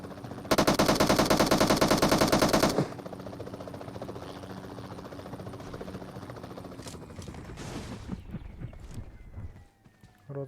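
Loud machine-gun fire in PUBG Mobile, a dense sustained burst of rapid shots for about two seconds, then scattered lighter shots and rattling game sounds that trail off.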